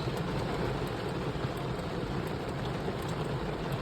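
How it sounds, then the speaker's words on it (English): Steady rain falls outdoors in a dense, even hiss of drops, moderately loud and constant, with no voices over it. "Who loves the rain? Is this good sleep weather?"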